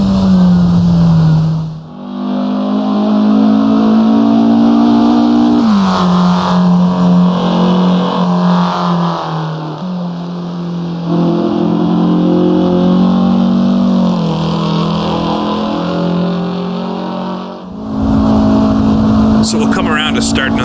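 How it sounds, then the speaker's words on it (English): A sim racing car in Assetto Corsa screams flat out in fifth gear near the rev limiter, a loud sustained engine whine holding steady pitch, briefly dropping at gear changes, while someone talks over it. "I'm flat out in 5th gear, pretty much maxed out on the RPM there."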